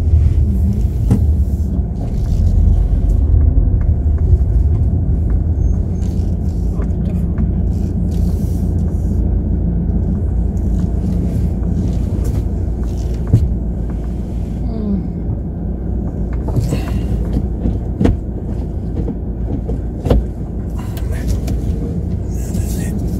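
A car reverses slowly near Ponta de São Lourenço on Madeira, its engine a loud, steady low rumble with occasional scrapes and knocks from the wheels over rough ground.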